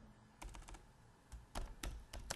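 Short bursts of typing on a computer keyboard, close and fairly quiet, with a few scattered keystrokes followed by quicker clusters of clicks while a website name is entered during a WordPress setup.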